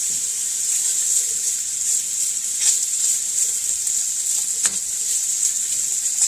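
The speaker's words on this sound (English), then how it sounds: "And that's the sizzling." Small cut-up bacon pieces sizzle loudly in a hot pan, a dense continuous crackling hiss with a couple of brief sharper pops and stirring noises, close and steady with no talk.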